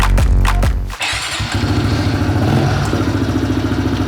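A pit bike motorcycle engine revs up close and loud with a sharp rasping burst, dips briefly, then settles into a fast, pulsing idle with a steady rhythmic chug.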